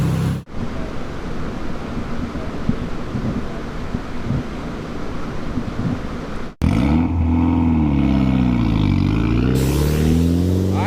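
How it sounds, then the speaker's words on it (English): A Mitsubishi Evo X engine idles steadily while fuel drains from the return line, a continuous loud rumble that cuts out briefly and then returns with a rising, revving whine, with no talking. "the car is currently running and just draining all the fuel out of the return"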